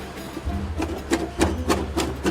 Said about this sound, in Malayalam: ഇതൊരു നെയ്യാണ് ഇപ്പോൾ അവർ കട്ട് ചെയ്യണത് കേട്ടോ